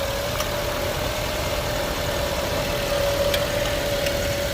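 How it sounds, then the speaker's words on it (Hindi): A 2014 Nissan Sunny idling with the A/C compressor engaged, a steady engine hum with a constant tonal whine, close and unbroken throughout, with faint clicks. "कंप्रेसर चालू हो गया है।"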